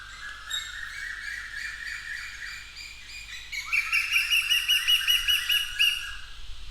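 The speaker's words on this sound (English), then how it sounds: "I'm staying in a place where there are a lot of birds around." Outdoor birds squawking and chirping close by, repeated harsh calls building into a louder rapid series of squawks, with no talking.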